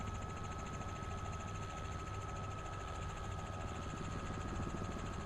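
Helicopter engine and rotor in Microsoft Flight Simulator 2024, a steady, dense mechanical drone with a whining tone on top, constant in level and unbroken throughout, with no talk.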